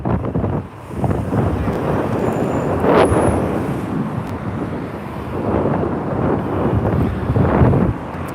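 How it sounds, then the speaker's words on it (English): Strong wind gusts on a street in Valencia, Spain, roaring and buffeting hard against the microphone as a loud, continuous rumble that swells and eases over several seconds. "Oh, it's so windy, oh my god."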